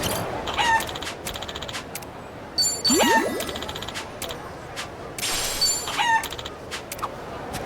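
A chicken clucks in the video game Like a Dragon: Infinite Wealth, several short squawking bursts over game ambience, with chimes and a voice in the background.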